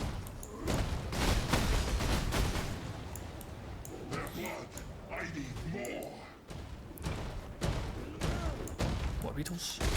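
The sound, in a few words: monsters exploding in Path of Exile video game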